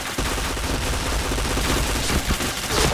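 Rapid, sustained gunfire from a shooter video game, dense and loud, with shots rattling continuously for the whole stretch and no talk over it.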